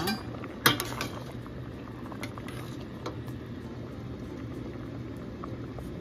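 Pasta boiling in a pot, a steady close bubbling and rumble with a single clink of a utensil at the start and no speech.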